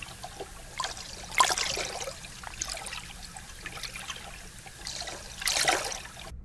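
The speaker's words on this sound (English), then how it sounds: "when the glider is at surface, you can hear sounds of the waves basically splashing on the hull" Waves splash against the hull of an ocean glider floating at the sea surface, heard as irregular wet trickling and sloshing with a few louder bursts, faint and continuous with no voices.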